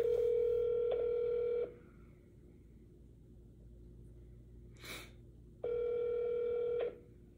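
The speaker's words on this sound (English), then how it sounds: "check out this audio of me making a phone call" A telephone line during a call plays a steady electronic tone in two long bursts separated by a pause, with a brief click or noise burst between them and no voices.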